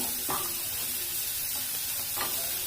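A medium-sized onion fries in a little oil with a soft, continuous sizzle, broken by a few brief scraping stirs of a utensil against the pan.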